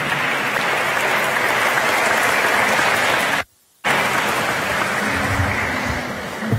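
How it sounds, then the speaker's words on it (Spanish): Loud, sustained applause from a church congregation at a priestly ordination in Willemstad, Curaçao, a dense wash of clapping broken by a brief gap of near silence before resuming. "Forte aplauso de parte de Isla Riba."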